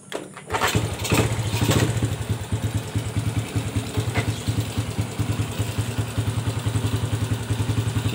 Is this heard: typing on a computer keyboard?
no